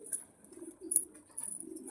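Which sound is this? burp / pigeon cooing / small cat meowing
pigeon cooing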